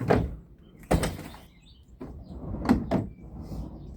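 Wooden drawers sliding open and shut while someone rummages for an Allen wrench, several distinct scraping slides and knocks spaced over a few seconds, close and fairly loud with quiet handling noise between.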